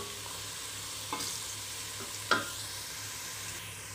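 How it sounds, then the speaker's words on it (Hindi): Onions frying in a pan for a capsicum chicken curry, a faint steady sizzle with a couple of brief stirring scrapes, close by and without talk. "अभी हम प्याज को होने देंगे, इसको हम लाइट ब्राउन करेंगे।"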